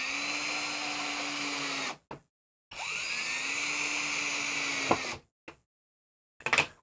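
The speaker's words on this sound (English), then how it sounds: "I'll cut the fretboard off right there" A saw cuts through a guitar fretboard on a maple and redheart neck: two sustained whining passes, close and loud, separated by a brief pause and ending in short bursts.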